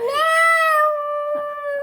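A single drawn-out meow imitated by a human voice, clear and close, rising then holding steady before fading slightly at the end.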